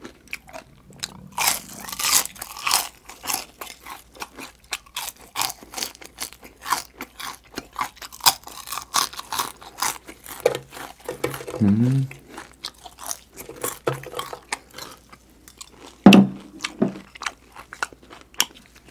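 Crunchy deep-fried chicken skin eaten at close range, with sharp, loud bites and a long run of crisp crackling chews coming in rapid, uneven bursts, broken by short pauses.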